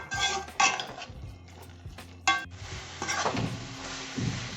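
Grated carrot for gajar barfi stirred in a metal pan over a medium flame, with a spoon scraping and clanking against the pan in irregular bursts and faint sizzling between strokes.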